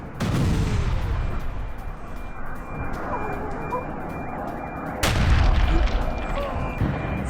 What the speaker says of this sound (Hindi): मिसाइल हमले में ऑयल डिपो में धमाका